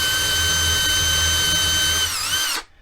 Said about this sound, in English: you take your drill bit,